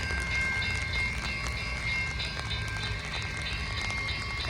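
The İzmir–Denizli train passes Kazakkahve with a continuous low rumble and steady rail clatter, heard from a moderate distance without a break.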